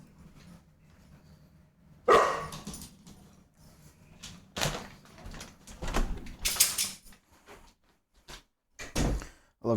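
A pet dog being teased at home lets out loud, close barks in irregular bursts, with thumps and knocks mixed between them and quiet gaps, no speech.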